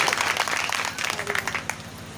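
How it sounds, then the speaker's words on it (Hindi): An audience at a Hindi poetry gathering claps in a moderate, uneven burst of applause, fairly close and steady, thinning slightly toward the end. "एक बार जोरदार तालियां बजा दीजिए, एक बार तालियां बजा दीजिए।"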